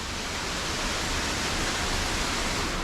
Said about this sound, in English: it's another cool waterfall